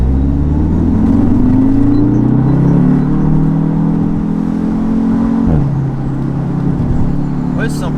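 An Audi TTS roadster's engine and exhaust under full throttle from inside the open car, a loud steady rising drone that drops as a shift comes, followed by a brief crackle, with someone talking over it.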